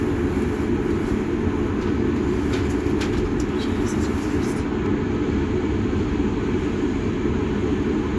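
A South Western Railway train at a station between Basingstoke and Salisbury makes a steady, loud rumble and hum that lasts throughout, with pigeons cooing nearby in the background.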